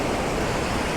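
Water tumbles down a fern-lined waterfall at Tokul Creek, Washington, giving a steady, dense hiss and rumble, close and unbroken, with no voices present.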